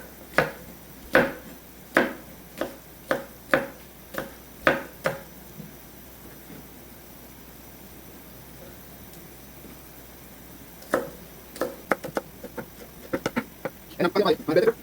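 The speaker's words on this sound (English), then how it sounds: "I'm just chopping up my onion," A knife chops purple onion and scallion on a board in a home kitchen, a steady run of crisp taps, then a pause, then quicker, denser chopping, with talking underneath.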